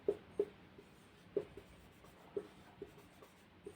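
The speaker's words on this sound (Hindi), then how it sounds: "2 नंबर में लिखेंगे राधा" Handwriting on paper, heard as a series of soft, scratchy pen strokes with brief pauses in between. It is quiet and close, with no other sound.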